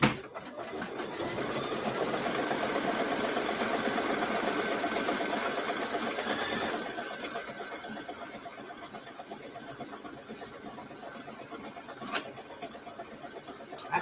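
Multi-needle embroidery machine stitches with a fast, steady mechanical chatter that runs strongly for several seconds, then tapers to a softer whirring hum, with a few sharp clicks near the end.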